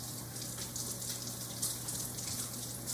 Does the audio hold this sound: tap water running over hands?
yes